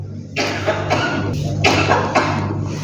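Three or four harsh coughs in quick succession, close and loud, with a low steady hum underneath.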